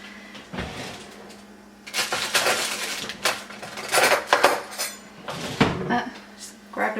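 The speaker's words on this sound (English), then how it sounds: "Just grabbed a butter knife instead. And I'll just give that a little bit of stir." Butter knife stirring basmati rice in a pot, with scattered metallic clinks, scrapes and knocks in irregular bursts, close by, after a quiet start.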